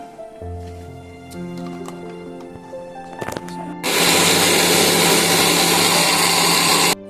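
An electric mixer-grinder blending onion and a whole tomato into a paste starts abruptly and runs as a loud, steady, high whir, preceded by soft background music.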